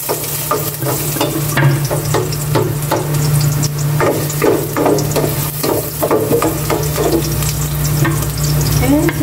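Garlic frying in a little olive oil, a loud, close sizzle broken by repeated scraping stirs, with a low hum underneath and no speech.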